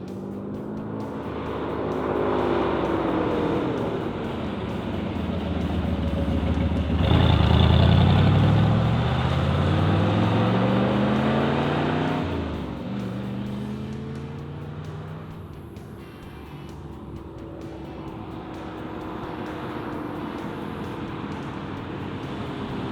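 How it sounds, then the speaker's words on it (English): A 1969 Chevrolet Corvette convertible runs on the highway, its engine droning steadily and rising and falling in pitch with gear changes and throttle, with a strong swell in the middle before it settles into a steady cruise. "before we get this Vette down on the highway"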